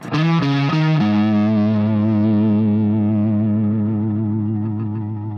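A Flying V electric guitar with a farty, fuzzy pickup tone plays a quick three-note lick and then a long vibrato-laden sustained note, loud and alone.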